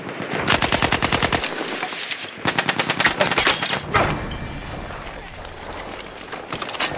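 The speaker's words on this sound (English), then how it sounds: "It's an enemy machine gun!" Enemy machine gun in the Battlefield 1 video game, bursts of rapid rhythmic fire in several volleys, loud and close, with softer battle noise between them.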